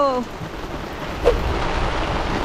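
Heavy rain pours down during a squid-fishing boat trip, a dense steady hiss that fills the whole stretch, with a brief voice at the very start.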